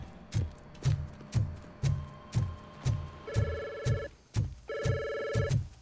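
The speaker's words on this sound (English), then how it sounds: "There are phones that need answering and no staff to do it." Phones ring one over another in a police station in the Robocop: Rogue City video game, with about a dozen regular rhythmic bell trills and two long electronic ringtone bursts layered on top, loud and busy.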